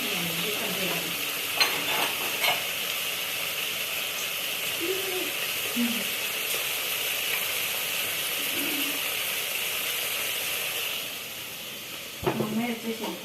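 Chili powder steadily sizzles and hisses in hot oil while pappu char is being cooked, a continuous frying hiss with faint stirring and brief voices.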